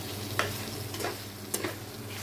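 Gochi fish stir-fried in a pan, a steady soft sizzle with a few sharper scraping stirs cutting through, close and continuous with no talk.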